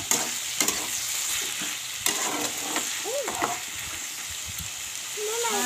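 An egg frying in a pan on a gas burner gives a steady close sizzle, broken by scattered light scrapes and clicks from the pan, with no voices.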